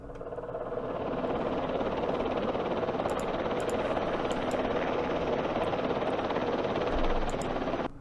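Military helicopters in the Campaign Series Middle East wargame, on a Yemen battle map, give off a steady, even rotor-and-engine drone that holds throughout, with faint clicking ticks on top and no talk.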